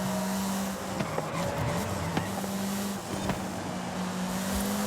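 A car engine at steady high revs during a Forza Horizon 5 midnight race, a sustained drone that dips and rises slightly as the throttle eases, with faint clicks and no speech.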